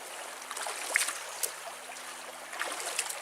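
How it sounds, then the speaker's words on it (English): An ice cold mountain stream on a backpacking trail near Lake Superior in the Porcupine Mountains flows with soft trickling and gurgling, faint and close, broken by a few brief splashes. "I just finished filtering water out of this ice cold stream"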